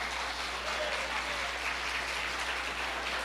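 Church congregation clapping, a steady, even wash of applause at moderate distance that holds for a few seconds, with a low hum underneath.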